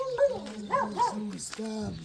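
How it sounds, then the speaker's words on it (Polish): A dog barks and whines in a few loud, drawn-out, voiced bursts close by, with a hint of a whimper, in a home where an armchair is being delivered. "Piesio sobie szczeka."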